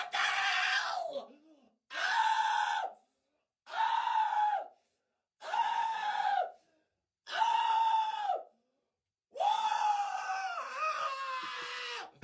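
People screaming in a heated argument, heard as a series of six loud, drawn-out shouted bursts separated by brief silences, the final one longer and more ragged.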